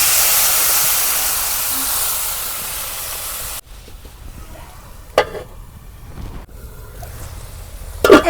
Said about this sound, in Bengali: এখন আমি পরিমাণ মতন পানি দিয়ে দেবো মশলাটা কষানো বানিয়ে।